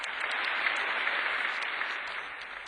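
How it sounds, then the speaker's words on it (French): A crowd of cartoon cats applauds in a Tom & Jerry story, giving dense, even clapping that holds steady for a few seconds and then eases slightly, with no voices over it. "Les chats applaudissent."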